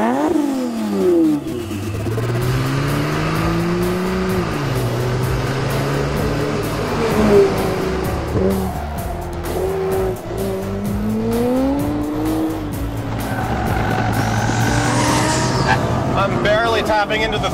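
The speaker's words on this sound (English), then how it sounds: "Tapping into the throttle, I'm getting drifts." A 1400 hp AMS Performance Alpha 12 Nissan GT-R drifting on a track with traction control off, engine revving hard and surging with rising and falling pitch as tires scrub, loud and continuous with someone talking over it.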